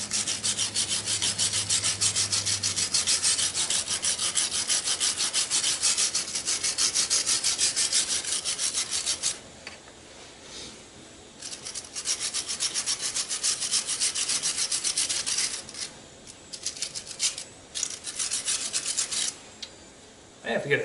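Stiff brush bristles scrub steadily over deer antlers being cleaned for mounting, a close, dense rasping with brief pauses and shifts in stroke.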